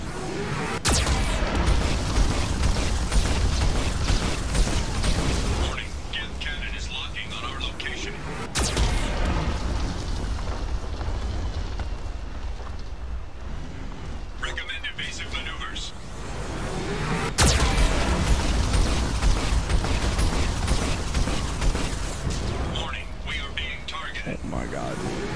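Geth cannon blasts and explosions in Mass Effect 2, with several sharp heavy impacts that break up a continuous rumbling, roaring battle din. A voice speaks throughout.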